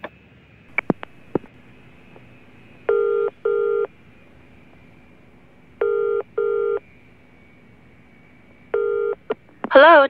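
Old-style telephone call being connected in a radio drama: a steady dial tone runs throughout while bursts of dialing tones come in pairs and a single, with sharp clicks between them, ending in a brief ringing tone.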